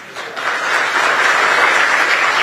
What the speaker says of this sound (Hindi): यही बोलेंगे तब यही ऐसे ही ताली बजाएंगे